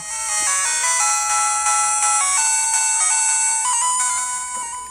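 Chiptune music blares loudly and continuously from the tiny built-in speaker of a BittBoy handheld game console, bright beeping melody notes stepping up and down with no talk over it.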